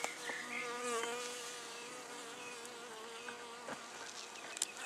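Honeybees buzz around an opened top bar hive during an early inspection, a close, steady drone of many wings with individual bees passing near and a few faint knocks.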